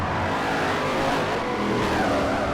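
V8 supercars race up a hill in Forza Motorsport 4, with dense, loud engine roar and revving from several cars layered continuously, no gaps.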